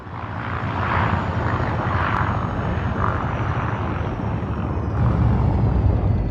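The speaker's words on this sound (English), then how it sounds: "She sounds like a propeller plane in space for some reason." Type 9 ship engine in the Elite Dangerous video game, a loud, steady propeller-like drone with a slow pulsing throb, continuous and close, with no voices.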